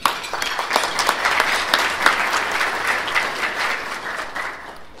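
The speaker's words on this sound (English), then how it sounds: "Please give them all a round of applause." Audience at a business and technology luncheon applauds event sponsors with steady, dense clapping throughout, moderately loud and gradually easing toward the end.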